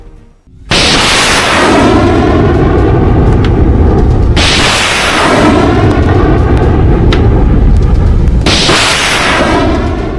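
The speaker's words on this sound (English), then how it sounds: "The Pinak rocket system is one of the Indian Army's most devastating fire support system in service since the Kargil War of 1999." A Pinaka multiple rocket launcher of the Indian Army fires rockets, three loud, sharp launch blasts, each followed by a long roaring, crackling rush as the rocket climbs away, filling the whole stretch with no pauses.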